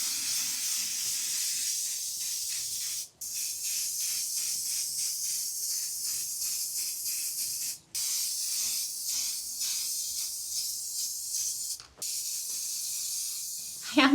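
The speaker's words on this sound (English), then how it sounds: "it does recommend one of these spray heat resistant paints" Heat-resistant primer and rust guard spray paint hisses steadily from an aerosol can in long continuous bursts, broken by three brief pauses between passes, close and fairly loud.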